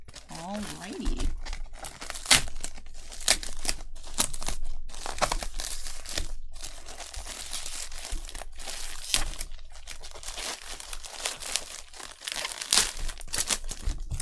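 Paper being handled and torn while opening a triple-layered mail envelope with a small knife, with repeated crinkling, crumpling and tearing bursts throughout and a person speaking at moments over the handling.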